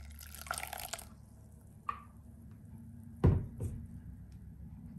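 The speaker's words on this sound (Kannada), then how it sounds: "ಸೊ ಮಿಕ್ಸಿ ಜಾರ್ಗೆ ಒಂದು ಸ್ವಲ್ಪ ನೀರು ಹಾಕಿ ಅದನ್ನು ಇದಕ್ಕೆ ಹಾಕ್ತಾಯಿದ್ದೀನಿ." Water poured from a mixer jar into an orange and pomegranate juice: a few scattered drips and light splashes, then a louder knock and a short liquid gush near the end, with no talking.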